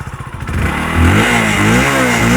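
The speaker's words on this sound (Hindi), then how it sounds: "हीरो की गाड़ी का साउंड कुछ ऐसा ही आता है, झंझनाहट थोड़ा सा ज़्यादा आपको मिलेगा।" A Hero HF Deluxe commuter motorcycle engine pulses at idle, then revs up and runs with a buzzy, somewhat rattly drone, heard close and loud with no talking.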